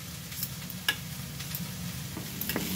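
Vegetables for a chicken fajita casserole cook in a pan, giving a soft steady sizzle with occasional light clicks of a utensil stirring.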